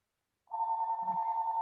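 A telephone rings indoors, a steady electronic tone that begins abruptly and holds loud and continuous, with a brief low thump partway through.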